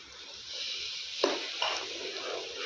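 Garlic paste hits hot peanut oil with a steady hissing sizzle, a couple of brief sharp crackles and stirring scrapes popping out amid the bubbling foam, close and moderately loud.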